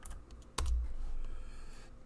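Typing on a computer keyboard while entering a login command, a sharp key hit followed by a steady low rumble of close keystrokes, no talking.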